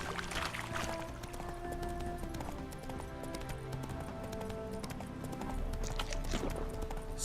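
Horse hooves clip-clopping in The Witcher 3 video game, a rhythmic trotting patter under a layered game soundtrack with sustained music tones, with brief bursts of louder clatter near the start and end.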